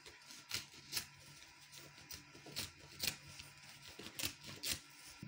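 Scissors snipping through leftover Ankara fabric while making a fascinator, a series of quiet, sharp crisp cuts at irregular intervals, close and soft, with no talking.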